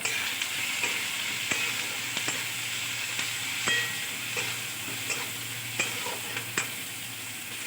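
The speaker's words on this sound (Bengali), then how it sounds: "শুধু চিংড়ি মাছটা পেঁয়াজটা মিশিয়ে দিচ্ছি একেবারে তাহলে একদম টেস্ট হয়ে যাবে ঝাক্কাস" Shrimp and onion fry in a pan with a soft, steady sizzle while a spoon scrapes and stirs in regular taps, the whole thing fairly quiet and close.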